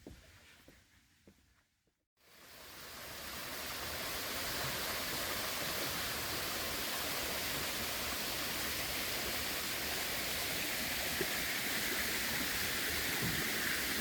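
Fountains and running water at a miniature golf course in Freeport, Maine, rising after a brief quiet into a steady, close, hissing splash that holds evenly for the rest of the clip.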